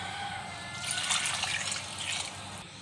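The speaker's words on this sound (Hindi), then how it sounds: "और अब मैं इसमें पानी ऐड कर दूंगी, जितनी ग्रेवी पसंद है।" Water pours into a pot of chicken and potato curry with green chickpeas, a soft trickling stream swelling in the middle and tapering off, faint and close.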